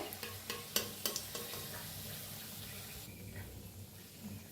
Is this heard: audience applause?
no